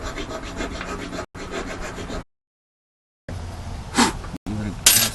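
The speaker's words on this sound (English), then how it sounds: "So I'll just go around and I'll clean these threads out." Metal scraping and rasping as a thread chaser is worked around bolt threads on a riding mower spindle, steady gritty strokes in two stretches broken by a silent gap, close up, with someone talking in places.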